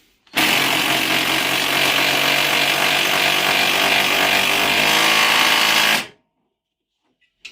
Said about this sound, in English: You ready for me to zing this top nut?